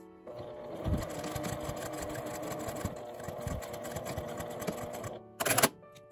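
A sewing machine stitching the ends of a wallet, a steady, fast, close mechanical whirring run that stops briefly, then a short final burst at the end.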